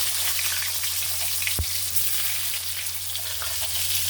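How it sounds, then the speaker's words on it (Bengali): Potatoes fry in hot oil in a pan, a loud continuous close sizzle with a steady low hum beneath and a single sharp knock partway through. "আলুটা দিয়ে দিলাম ওই তেলের মধ্যে।"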